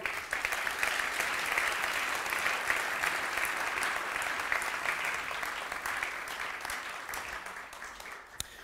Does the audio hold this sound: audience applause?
yes